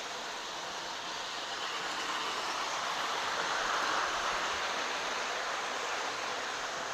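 A 1970s Lionel model train runs steadily along its track, a continuous rushing, rumbling hum that holds at an even level throughout with no talking.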